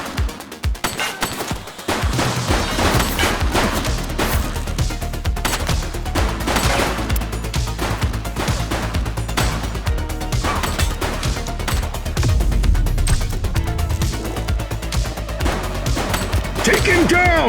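Sustained automatic gunfire and bursts of shots in the police game The Precinct, loud and continuous with dense rapid reports, heavy low booms and crashes, and shouted voices mixed in.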